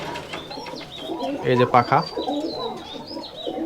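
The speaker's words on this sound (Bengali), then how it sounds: "এটা কিন্তু রাজশাহী লোকাল গিরিবাজ কবুতর।" Rajshahi local Giribaj high-flying pigeons coo close by in soft, throaty repeated calls, swelling midway, while someone speaks briefly over them.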